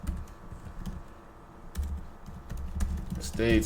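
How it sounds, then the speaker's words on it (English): Rapid, irregular keystrokes clatter on a nearby computer keyboard, with a few heavier key presses toward the end. "while I'm typing this in the chat GPT"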